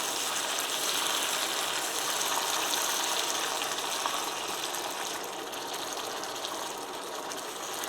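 Warm water poured into a pot of frying Ethiopian shiro, a steady close hiss and gush lasting throughout, easing slightly toward the end.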